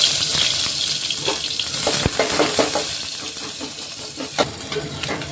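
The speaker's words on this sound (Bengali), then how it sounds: "পেঁয়াজ ভাজা হয়ে গেছে" Onions fry in oil in a pan, a loud steady sizzle broken by scraping stirs and occasional clinks of a utensil against metal.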